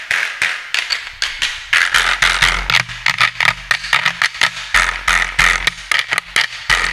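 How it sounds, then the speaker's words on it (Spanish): A donkey jawbone quijada, or carraca, struck and scraped as a percussion instrument, playing a loud, fast rattling rhythm of sharp clattering hits up close, alone with no voices. "Lo que tenemos acá es la quijada del burro o carraca"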